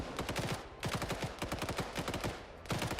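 Rapid bursts of gunfire crackle through a large multiplayer PvP video game battle with 120+ players, dense and continuous fire lasting throughout, with short pauses between volleys and no voices.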